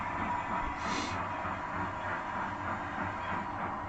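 A model railway train, an 8F locomotive with another train, runs on a home layout, giving a steady close rumbling whir with a continuous hiss and no clear talk.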